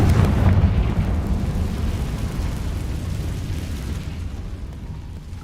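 The Confringo spell from a magic video game explodes in a loud rumbling blast that fades slowly over several seconds, with no talk.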